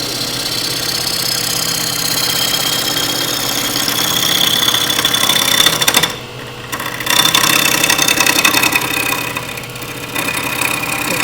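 A wood lathe turns a Norfolk Island pine blank in a continuous whirring drone while the cutting tool chatters against the wood. The sound dips briefly twice as the cut lightens, with no talk.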